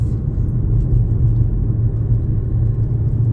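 A car cruising on a road during a driving lesson, a steady low engine and road rumble from inside the cabin as the learner speeds up, with no talking.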